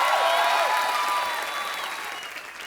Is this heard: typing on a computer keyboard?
no